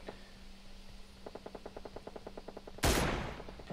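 Rapid automatic rifle fire in the mobile shooter PUBG Mobile, a steady burst of about a dozen evenly spaced shots, followed by a louder, sharper blast near the end.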